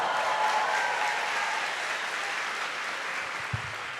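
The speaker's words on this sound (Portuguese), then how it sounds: "Uma salva de palmas para o Espírito." Audience applause at a Brazilian Catholic talk fills the room as a dense, steady wash of clapping, loud at first and tapering gently, with a single thump near the end.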